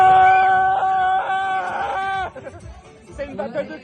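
Children scream in a shouting battle, sustained high-pitched shrieks that break off into mixed yelling and chatter.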